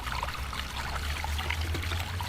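Water pours steadily into containers being filled before a boat launch, a continuous close trickling stream with no voices over it.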